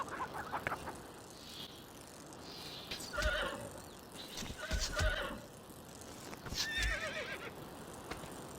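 A horse whinnies loudly three times in a row, spaced a couple of seconds apart, with hoof clops and thuds around each call and a steady outdoor background between them.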